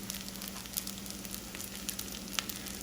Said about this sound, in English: I'm going to let this fry a little bit.